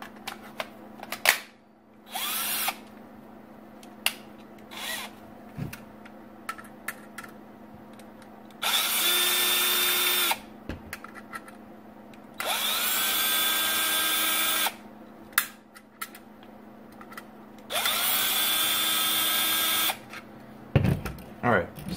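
A power drill backs screws out of a Nerf blaster shell in bursts, three long steady whirring runs alternating with short clicks, handling clatter and quiet gaps, loud and close.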